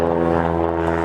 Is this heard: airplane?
yes